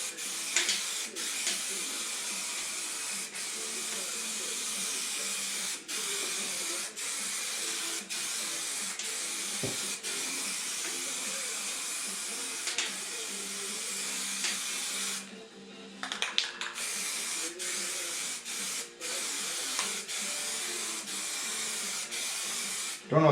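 Spray gun painting a car body in a backyard shop, a steady continuous hiss of atomized paint running almost the whole time with brief interruptions, music faintly in the background.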